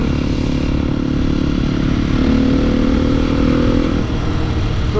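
Husqvarna 450 supermoto motorcycle engine running steadily at a gravel pit, a loud, continuous close-up drone with a slight rise in revs midway, no voices.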